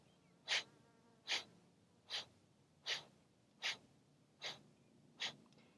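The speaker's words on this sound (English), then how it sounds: "Forceful exhales through the nose." Seven sharp, forceful nasal exhales during a vinyasa yoga flow, evenly spaced about three-quarters of a second apart, close and isolated against a quiet background.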